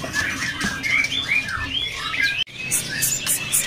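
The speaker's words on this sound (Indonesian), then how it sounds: "di sini juga ada burung siri-siri asli dari siri-siri gacor Sumatera" Siri-siri songbirds from Sumatra sing in repeated bright chirps and warbled phrases, several birds overlapping close by, with a brief cut midway before the chirping resumes.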